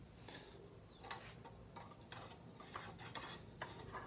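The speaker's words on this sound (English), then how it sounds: "Oh, you can't see me stirring." Colonial Maple wood stain stirred in its can with a stir stick, a quiet, close sequence of swishing and scraping strokes with faint knocks against the can, no one speaking.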